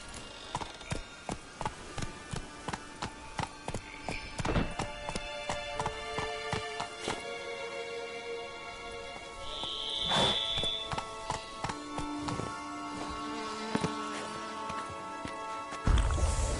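Roach, a horse in The Witcher 3: Blood and Wine, gallops with a steady run of hoof clip-clops, close and fairly loud, under game music and ambience, with a short voice near the end.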